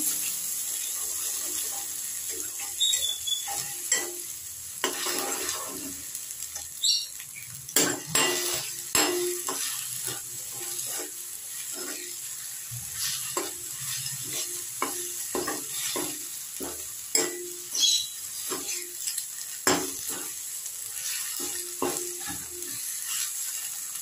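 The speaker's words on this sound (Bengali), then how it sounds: "ডিমটা আমি 2 মিনিট এইভাবে নাড়াচাড়া করবো।" An egg stirred around in a hot pan for a breakfast dish with bread, giving a steady low sizzle under repeated utensil scrapes and clinks against the pan, near and continuous.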